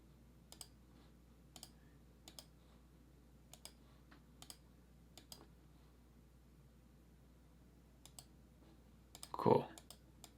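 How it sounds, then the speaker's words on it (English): Computer mouse clicking while colours are chosen in a T-shirt design tool: soft, evenly spaced clicks close to the microphone, followed near the end by a brief burst of voice. "we're gonna click on here and click all the colors to be that blue"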